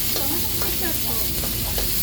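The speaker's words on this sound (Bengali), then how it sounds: "একটু নেড়ে চেড়ে নেওয়া হচ্ছে" Green chilies sizzle in a little oil in a wok while being stirred, a close, constant hiss of frying broken by short scraping strokes.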